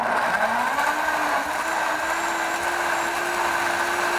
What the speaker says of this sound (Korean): 여기다가 한 컵 정도 분량, 한 컵 정도 분량을 넣고 믹서기에 다 넣었으니까 갈아줄게요